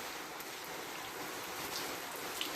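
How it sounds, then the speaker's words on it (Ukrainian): Steady rain falls outdoors in a village, a soft even hiss with scattered faint drip ticks, quiet and continuous with no voices. "Гарний дощик пустився."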